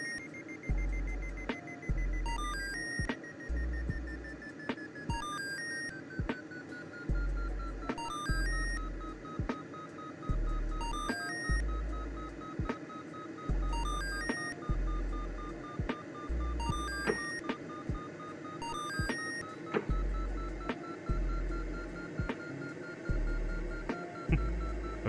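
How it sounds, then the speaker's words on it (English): A flaps warning alarm beeps in the cockpit of a Condor 2 glider flight simulator, repeating in a steady, regular pattern of short electronic tones that keeps going throughout over a constant background of wind and airflow. "I was getting a flaps alarm."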